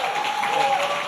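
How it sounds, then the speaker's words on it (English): Applause from an awards ceremony audience for a cystic fibrosis fundraiser, a steady, dense patter of clapping that holds through the moment with a faint steady tone running underneath. "Give a big round of applause for Dr. Ray."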